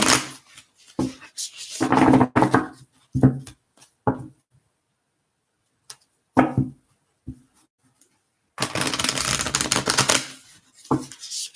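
Tarot cards are shuffled in several quick riffling bursts, crisp and close, separated by short quiet pauses, with a longer riffle at the end.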